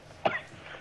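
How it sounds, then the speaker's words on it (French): A man gives one short, muffled cough over a telephone line, a single faint burst against a quiet background hiss. "Pourquoi tu tousses?"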